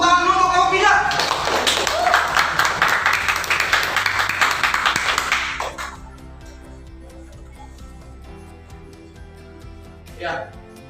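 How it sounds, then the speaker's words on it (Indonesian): Group 3 gets a burst of classroom applause, many hands clapping quickly for several seconds before it fades out, followed by quiet room tone and a brief voice. "Tepuk tangan dulu untuk kelompok 3."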